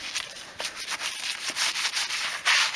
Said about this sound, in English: give it a coat of foam and we'll give it a good old scrub